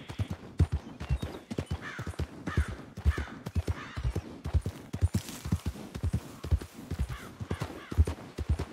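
Horse hooves clip-clop steadily in a video game, the saddled horse's rhythmic, fairly close hoofbeats repeating evenly and dominating the clip.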